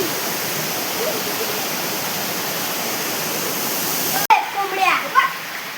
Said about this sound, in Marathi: पाण्याचा फोर्सच एवढा आहे ना डायरेक्ट किनाऱ्यावर आणून सोडतो